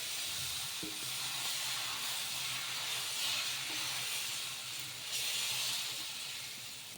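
Dosa batter spread thin on a hot pan, cooking with a soft, continuous hiss and sizzle at low, steady volume.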